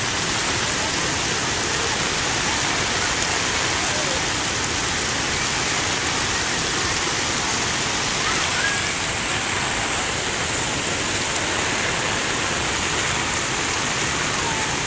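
Ocean waves churning steadily, a broad continuous wash of surf that stays loud and unbroken for the whole stretch, with no distinct voices over it.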